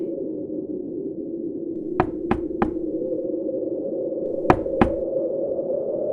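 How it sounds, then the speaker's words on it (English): Knocks on a wooden door, a quick group of three and then two more a little later, crisp and close above a steady low drone. "there was a knock at his door."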